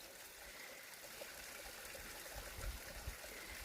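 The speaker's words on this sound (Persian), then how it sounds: "از چشمه داره آب میاد" Small mountain spring water trickling steadily outdoors, a continuous soft wash of running water close by with a few louder low splashes near the end and no talking.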